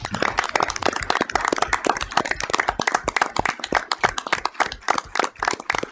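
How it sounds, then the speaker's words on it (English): Crowd clapping at a school board meeting, loud sharp hand claps in a dense irregular patter, close and steady for several seconds with no talk. "So I think they deserve a round of applause."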